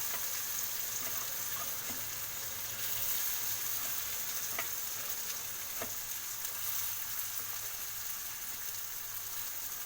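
Chopped garlic, onion and tomato frying in a pan, a soft steady sizzle with occasional light stirring scrapes, faint and continuous throughout.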